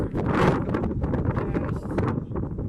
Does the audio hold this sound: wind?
yes